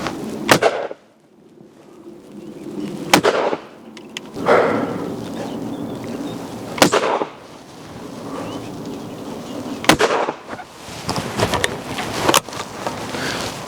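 A Baikal shotgun fires at clay targets on a shooting ground stand, with about five sharp, loud cracks spaced a few seconds apart, each trailing a short outdoor echo over soft background ambience.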